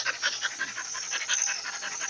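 A stray female dog that turned up on New Year's night pants steadily and fast in close, rapid breathy bursts over the whole moment, with no one talking.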